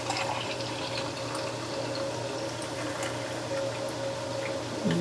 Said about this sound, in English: I'm going to pour myself a glass